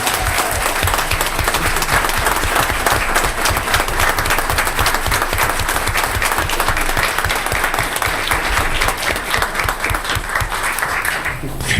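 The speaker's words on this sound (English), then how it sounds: "Let's give her a round of applause." Sustained, dense applause fills a school board meeting room honoring an elementary Teacher of the Year, steady and loud for about twelve seconds with no break.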